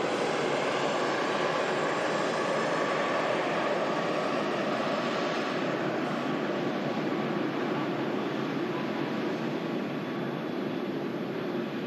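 A TUI Dreamliner airliner rolls along the runway, producing a steady broad engine roar heard from a distance that holds nearly level throughout and eases slightly toward the end.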